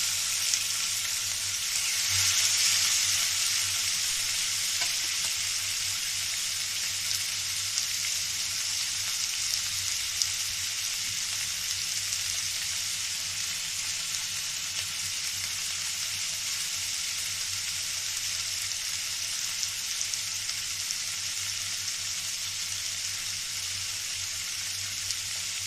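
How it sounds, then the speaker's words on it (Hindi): Chicken pieces and onion fry over low heat in a pan, a steady even sizzle that carries on unbroken throughout, close and fairly loud, with a few faint stirring touches. "हल्की आंच पे इसको 5 से 10 मिनट तक एक साइड से फ्राई करेंगे।"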